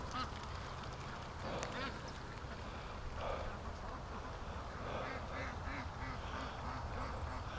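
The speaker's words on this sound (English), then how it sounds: "Come on, ducks." Free-range ducks quack and honk in a steady chorus outdoors, several birds calling repeatedly at mid distance over constant background noise, with a person talking faintly.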